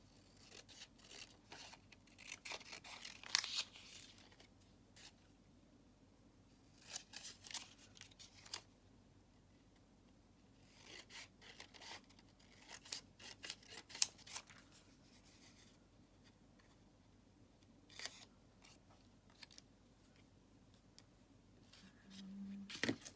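Scissors snip through paper for a junk journal, with scattered short cuts and rustling handling noises heard up close in a quiet room, with pauses between bursts.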